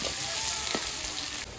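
Onions crackle and sizzle in hot oil in a pot of mutton curry, a steady close frying hiss with one short sharper spit partway through.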